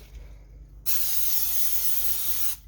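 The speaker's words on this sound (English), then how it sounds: "I have my 9x13 baking dish here, and I'm just going to spray with some Pam" A short, steady hiss of Pam cooking spray onto a 9x13 baking dish lasts under two seconds, then cuts off abruptly.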